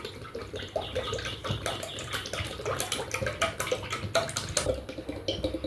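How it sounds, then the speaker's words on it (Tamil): Coconut oil being poured from a bottle into a pan for a homemade herbal hair oil, a steady liquid trickle and splash running continuously and close by, with no talk. "ஸோ இப்போ 1 லிட்டர் எண்ணெயை நம்ம இந்த ஊற்றுற வானலில்"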